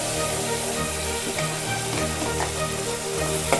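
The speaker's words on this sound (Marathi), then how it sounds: "हा जो आपण मसाला बनवला होता तो आपण फ्राय करून घेणार आहे" Masala for Kolhapuri mutton frying in hot oil in a pot, a steady, dense sizzle with faint stirring that holds at an even level throughout, with no voices.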